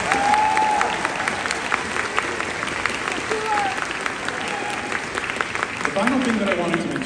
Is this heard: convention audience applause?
yes